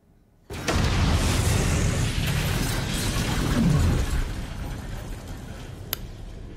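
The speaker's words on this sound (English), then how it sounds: "Explosion." A bomb explosion in the Fallout TV series: a sudden loud blast erupts and sustains a dense, rumbling roar that slowly fades over several seconds, with a brief crackle near the end.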